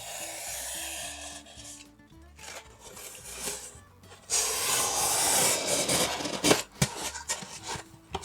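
Wall insulation material being cut into two pieces, close rasping and rubbing strokes with a longer louder stretch of steady scraping in the middle, over a faint low hum and with no speech.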